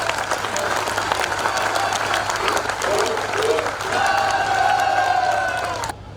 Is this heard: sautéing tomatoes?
no